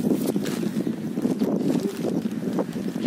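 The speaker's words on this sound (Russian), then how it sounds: "Ветер ужасный на улице." Strong wind blows outdoors on a street and buffets the microphone, making a continuous low, rough rumble that surges and dips for about three seconds without speech.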